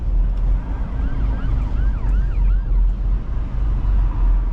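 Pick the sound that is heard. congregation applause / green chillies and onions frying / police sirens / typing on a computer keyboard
police sirens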